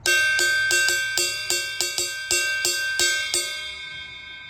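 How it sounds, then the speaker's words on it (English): An old crash cymbal's bell struck about ten times in a steady rhythm, each hit ringing bright and sustained, layered over the last, then fading out. "the bell just rings on this thing"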